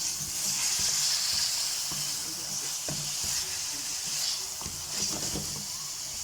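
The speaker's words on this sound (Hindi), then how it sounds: "ये हम फ्राई कर रहे हैं" Chicken karahi sizzles steadily in a hot pan, a continuous bright crackle with scattered pops and stirring clatters.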